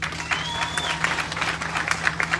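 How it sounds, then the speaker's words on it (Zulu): Applause from a gathering at a funeral, honoring baba uNala: a steady patter of many hands clapping at moderate distance, with a faint sustained tone beneath it. "simbonge baba uNala nala akhona simshayile ihlombe"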